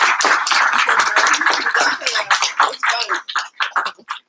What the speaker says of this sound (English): And let's give Humaira a round of applause.